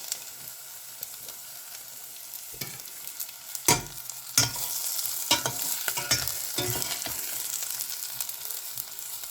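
Chicken pieces frying in a pan for a Thai-style green curry, a continuous sizzle with a few sharp stirring clatters partway through, then a fuller, louder hiss that carries on to the end.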